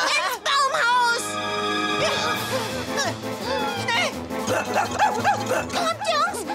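A cartoon dog barks and yips excitedly in short bursts, close and loud, mixed with overlapping voices and a music bed.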